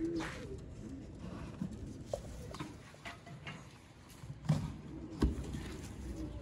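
Black-faced pigeons give a few scattered coos and some faint taps and shuffles, heard quietly at a distance with no voices.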